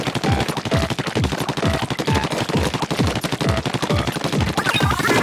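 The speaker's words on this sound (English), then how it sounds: "Just shoot the sponges" Rapid automatic ink shots fired at sponges in the video game Splatoon: a fast, regular burst of punchy splatting pops, close and loud, continuing without pause.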